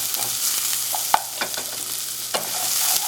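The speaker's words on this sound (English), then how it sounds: "I continue to stir the bottom because I don't want my ginger and garlic to stick and burn on the pan." Onions, ginger and garlic sizzle steadily in a hot pan while a utensil scrapes and stirs the bottom, giving a few sharp taps and knocks over the continuous frying hiss.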